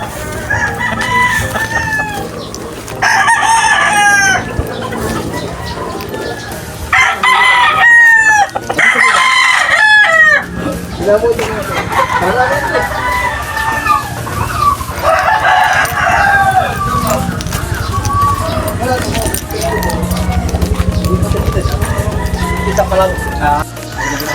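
Young roosters crow repeatedly at a farm in Payatas, Quezon City, loud and close, with clucking in between and people talking throughout.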